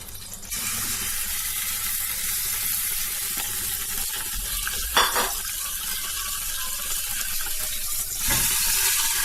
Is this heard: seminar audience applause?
no